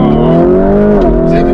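Lamborghini Urus engine roaring hard under a launch-control start, a loud sustained rising drone with steady harmonics and a brief dip near the end, heard from inside the car.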